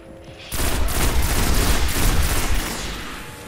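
Loud, dense automatic gunfire in the video game Destiny erupts abruptly and continues as a rapid, sustained fusillade close up.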